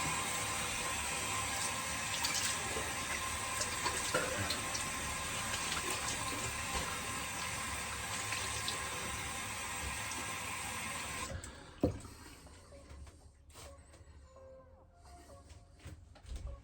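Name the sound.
tap water running, rinsing razor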